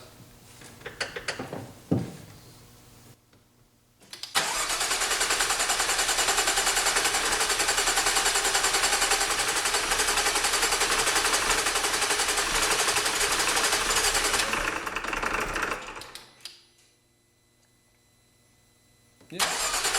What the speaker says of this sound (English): Okay, first startup, let's see what she does.